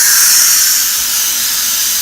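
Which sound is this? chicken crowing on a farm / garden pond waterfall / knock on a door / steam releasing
steam releasing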